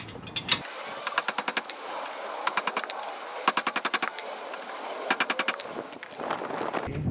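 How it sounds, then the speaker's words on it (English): A bolt being driven tight on a 2011 Toyota Sienna brake caliper mount by a rattling power tool, heard as repeated loud hammering bursts of rapid impacts close by, separated by short pauses. "Okay, tightening up the bolt."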